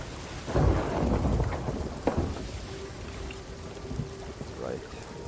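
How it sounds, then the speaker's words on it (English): A thunderstorm with steady rain rolls over a ship at sea in the video game Sea of Thieves, with a deep thunder rumble up front and a sharp crack midway, while someone talks over it. "Hopefully the storm will move on."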